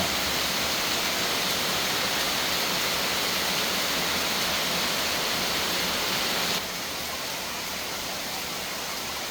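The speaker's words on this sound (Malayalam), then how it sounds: "കോരിച്ചൊരിയുന്ന മഴ" Heavy monsoon rain pours down in a loud, dense, unbroken hiss that holds steady before easing slightly near the end; no voices are heard.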